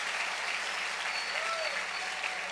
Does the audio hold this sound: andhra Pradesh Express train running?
no